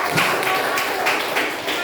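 A group of children and adults at a Christian gathering clap together, a dense continuous patter with faint rhythmic accents, fairly close and even throughout the short burst.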